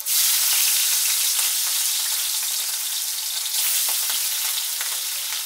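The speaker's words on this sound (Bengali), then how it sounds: "মাছগুলো একটু ডিপ করে আমি ফ্রাই করে নিচ্ছি।" Fish pieces deep frying in hot mustard oil, a loud, steady, dense sizzle that runs unbroken throughout with faint crackles and no talking.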